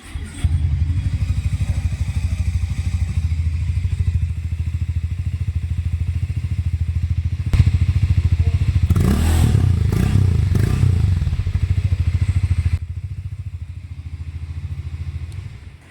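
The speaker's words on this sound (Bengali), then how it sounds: "আমি একবার বাইকটাকে অন করে তারপরে তোমাদেরকে এটার এক্সজস্ট নোটটা শোনাবো" 2025 Hero Mavrick 440 motorcycle idling, a steady low engine thrum and exhaust note close to the microphone, with a mid-clip blip of revs and some clatter before settling back; no talking.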